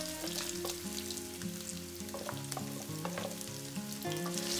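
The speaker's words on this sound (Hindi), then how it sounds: "और अब डाल देंगे हमारे सारे आलू और इन्हें अच्छे से फ्राई कर लेंगे" Potatoes and green chili fry in a hot pan with cumin, giving a continuous oily sizzle and crackle. Occasional stirring scrapes come through under background music.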